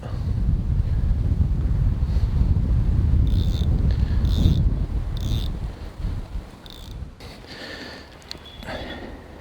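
Steady wind by a river in autumn buffets the microphone with a low rumble, easing off partway through, while faint outdoor knocks and rustles come and go.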